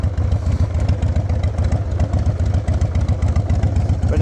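A 2003 Harley-Davidson Sportster, 100th anniversary edition, idling up close, its V-twin giving a loud, steady, uneven low-pitched lope with mechanical clatter throughout.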